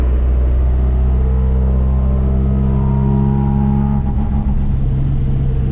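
An Otokar M2000 Magirus bus engine revving, a loud, close diesel rumble that rises and swells with throttle blips before settling near the end.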